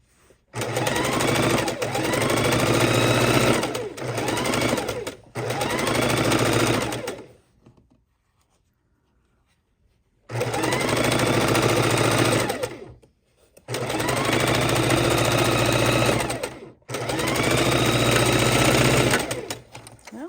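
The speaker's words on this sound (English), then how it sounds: "we're going to pop this under the sewing machine and one more row complete" A sewing machine stitching queen-size quilt rows runs in long steady bursts of rapid stitching, pausing briefly in the middle, loud and close with no talking.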